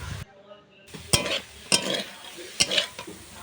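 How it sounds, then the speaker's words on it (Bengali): Loud stirring and scraping in a hot pan with a steady sizzle of pumpkin greens and sesame seeds frying, a few sharp metallic clanks standing out. "শাক আর তিল একসাথে ভেজে নেব"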